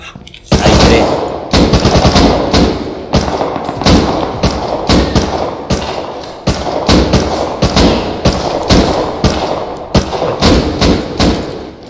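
Rapid bursts of gunfire in the survival video game Rust, loud sharp shots in quick irregular volleys with brief gaps, dominating the clip throughout.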